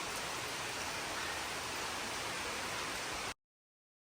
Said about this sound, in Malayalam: നല്ല മഴ സന്ധ്യ സമയം